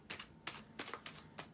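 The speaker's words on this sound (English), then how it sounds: "while I'm shuffling the cards" Rider-Waite tarot cards being shuffled close by, five crisp riffling bursts spaced in an even rhythm, each a quick papery flutter, with no speech.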